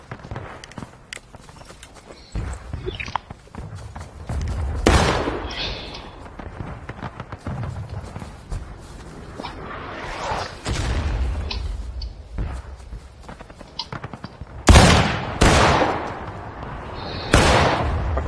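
Scattered musket gunfire in the Civil War video game War of Rights, several sharp booming shots spread irregularly over a background of faint footsteps and movement, with one especially loud shot near the end.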